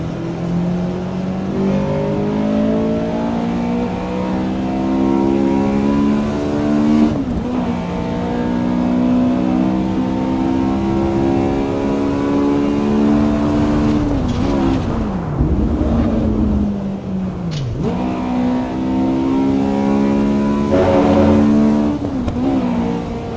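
A race car engine in a racing simulator game revs steadily and loud, rising and falling through gear changes with a couple of sharp dips as it lifts off and climbs again, with nobody talking.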